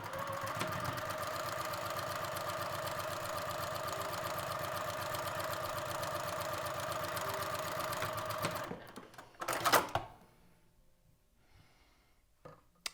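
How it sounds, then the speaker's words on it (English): A sewing machine stitches a fabric seam at a 5/8 seam allowance, running with a steady, fast, even whir for about eight seconds, then stops. A short rustle of fabric and a click follow in the quiet. "I'm going to stitch this fabric at 5/8 seam allowance."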